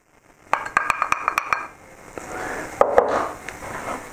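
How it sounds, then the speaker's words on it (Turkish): A utensil taps and scrapes a pan while flour is toasted in olive oil: a quick run of about eight sharp clinks, then softer stirring and rubbing, close up with no talking. "Önce yağla unu kavuracağım."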